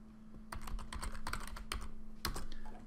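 Fingers type a title on a computer keyboard, a quick run of close, crisp key clicks in uneven bursts over a low steady hum.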